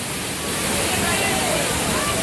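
Bhivpuri waterfall near Mumbai, a broad, steady roar of falling water filling the whole clip, dense and unbroken, with faint voices blurred underneath.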